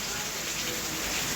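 Steady tropical rain falling in Jamaica, a dense, continuous hiss of drops on surfaces nearby, loud and unbroken throughout.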